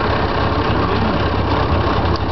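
A car engine fitted with a cheap homemade vapor injector, which draws air through a water-soaked sponge into the intake, runs at a steady, loud, close idle with a constant low rumble.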